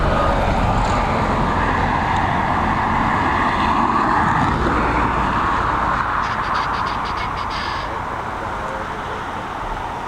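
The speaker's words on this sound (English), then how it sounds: "787-10 series Dreamliner" Boeing 787-10 Dreamliner jet arriving at Dublin Airport on a high-wind day, steady loud broadband roar that eases slightly toward the end, heard alone without talk.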